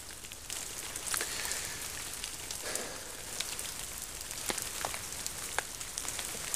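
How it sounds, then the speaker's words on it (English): Rain falling during a cold river hike over ice and snow, a steady soft patter with scattered sharper drops striking nearby surfaces, continuous and fairly quiet with no talking. "It is cold outside, and it is raining."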